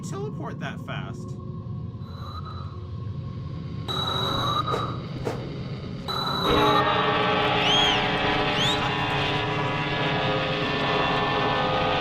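A fleshy monster train in a horror game rumbles and roars steadily, with blaring horn-like tones and screeching swells that grow louder partway through, continuous and close.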